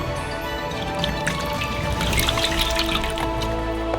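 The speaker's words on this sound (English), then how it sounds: "Pour in some oil." Oil poured into a cauldron for cooking crayfish makes a steady liquid trickle with bubbling and dripping spatter, close and continuous with no voices.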